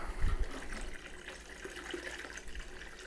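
Liquid for a Kolsch homebrew kit gushes and splashes into a fermenter, a close, continuous pouring rush with a heavier splash at the start, with no talking.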